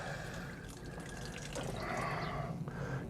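Water poured from a watering can onto potted courgette seedlings freshly topped with compost, a steady near splashing and trickling that swells toward the end.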